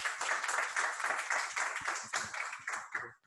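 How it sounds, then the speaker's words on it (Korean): A lecture-hall audience applauds as a professor walks up for his retirement lecture, with a sparse, crisp round of individual hand claps that starts strong, thins slightly and fades out at the end. "교수님께서 올라오실 때 큰 박수 부탁드리겠습니다"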